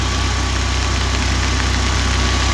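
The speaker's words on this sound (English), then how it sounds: "I can hear the generator on the porch." Off-grid 8.5 kW generator running with no load, heard from a porch in the rain as a steady, loud idling engine drone with a low, even throb and no voices.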